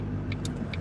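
A Ford Focus drives along the road, its steady engine rumble and tyre hum filling the moment, with a few faint high ticks over the drone.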